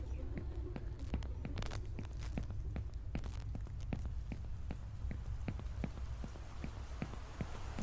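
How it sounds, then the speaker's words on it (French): Blood raining down in the horror game Horror Tales: The Wine, a steady patter of drops with repeated sharp ticks over a constant low rumble throughout. "Il pleut du sang partout."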